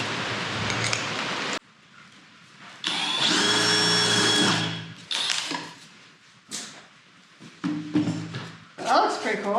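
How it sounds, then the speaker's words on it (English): A Forstner bit drills a test hole as a loud, close, whining drill runs in several bursts of rising and falling pitch. People talk in between the bursts. "just gonna do a test to make sure these Forstner bits cut clean."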